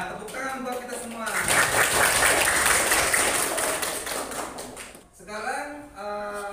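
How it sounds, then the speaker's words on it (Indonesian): A classroom of students claps together on cue, a burst of brisk group applause that rises after a teacher speaks and fades out before talking resumes. "tepuk tangan buat kita semua"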